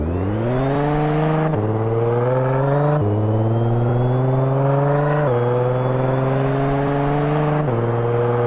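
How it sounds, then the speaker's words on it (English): A supercharged Audi car accelerating hard on a top speed run, its loud engine climbing in pitch through several gears with sharp drops at each of four or five upshifts, close and continuous. "It sounds different from the other Audi. It's got a supercharger."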